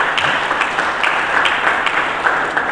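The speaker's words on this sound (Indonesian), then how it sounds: "Mari kita berikan tepuk tangan bagi Yesus." Church congregation applauding together, a steady dense wash of clapping with no voices over it, close and loud throughout.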